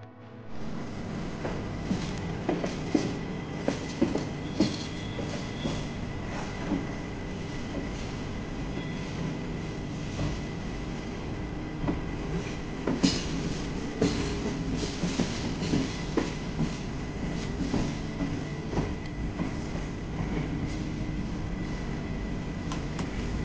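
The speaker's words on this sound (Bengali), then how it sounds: "এরপর কিন্তু ট্রেন সরাসরি পৌঁছে যাবে কাঠগোদামে" The 13019 Bagh Express from Kolkata runs on rails toward Kathgodam near Haldwani, a continuous loud rumble with rattling carriages and irregular clicks of wheels over rail joints, steady throughout with no voices.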